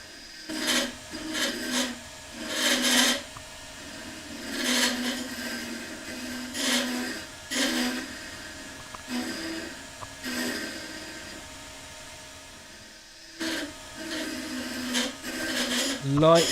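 A woodturning gouge takes light cuts on a spinning lathe workpiece, giving repeated short raspy scraping bursts in an irregular rhythm with brief pauses between passes, close and moderately loud.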